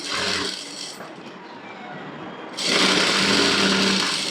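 A sewing machine stitches a blouse elbow sleeve with lining and main fabric joined, running in a steady close whir that dips briefly midway and then resumes louder.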